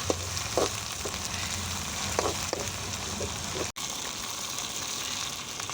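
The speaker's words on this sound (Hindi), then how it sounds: "प्याज हमारे फ्राई हो रहे हैं।" Onions sizzle steadily in hot oil with garlic-ginger paste and ground green chili for aloo matar gobhi, a constant close frying hiss with a few small pops and a brief dropout near the end.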